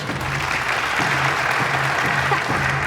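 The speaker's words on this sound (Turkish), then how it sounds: "O zaman ilk yarışmacılar için bir alkış." An audience applauds the first contestants of a timed shooting competition, a steady, dense burst of clapping that holds at an even level throughout.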